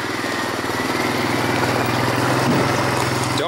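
A small two-stroke hovercraft engine, running on 50:1 fuel mix, runs steadily at a loud, buzzing idle, close by, with no talk over it.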